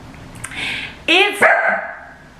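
Yorkie poodle gives a few sharp, high yips and barks close by, with short gaps between them and a little whine at the end.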